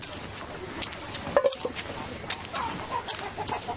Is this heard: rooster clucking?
yes